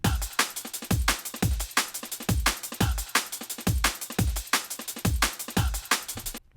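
Layered kick drums driving a chopped drum break at a brisk Drum & Bass tempo, with deep booming kicks under dense, crisp snares and hats in a steady, busy loop, loud and continuous with no voices.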